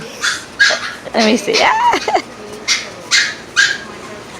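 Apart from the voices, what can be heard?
Doberman puppy whimpering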